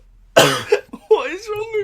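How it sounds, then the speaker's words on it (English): A man's sharp, close cough bursts out once, followed by a throaty rasp and a short vocal sound, all loud and near in an indoor chat setting. "I needed to cough"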